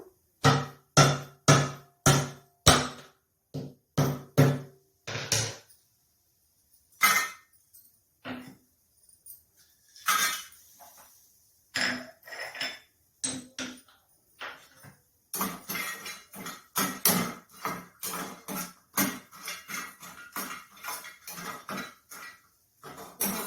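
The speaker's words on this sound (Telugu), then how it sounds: "ఫస్ట్ వచ్చేసి చెక్క అండ్ జాజికాయ జాజికాయని కొద్దిగా చెక్క పక్కలాగా కొట్టుకుందాం" Cinnamon bark and nutmeg being pounded for masala tea, a run of sharp, close knocks in quick bursts with short pauses between groups, growing denser toward the end, with no talking.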